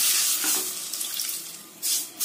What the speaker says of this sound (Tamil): சர்க்கரை நனைகிற அளவு தண்ணி ஊத்துனா போதுங்க